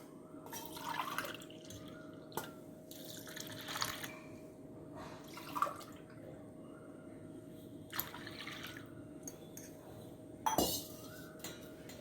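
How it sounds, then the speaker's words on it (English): Water trickles and clinks into a vessel in several short bursts while about two cups are added for sambar, with soft glassy splashes over a steady low background hum. "now I'll be adding approximately around 2 cups of water"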